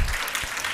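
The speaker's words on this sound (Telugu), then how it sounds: "దానికి మీరు చప్పట్లు గట్టి కొట్టాలి." A church congregation claps loudly together in a steady burst of applause, a dense crowd sound with no voices over it.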